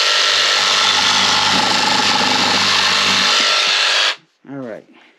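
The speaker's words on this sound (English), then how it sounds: "I'm just going to cut this tip off right now" A Milwaukee M12 Fuel cordless jigsaw cutting off a tip with a beveled 45-degree cut, loud continuous buzzing close by for about four seconds, then stopping, followed by a brief voice.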